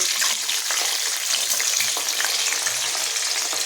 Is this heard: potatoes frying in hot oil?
yes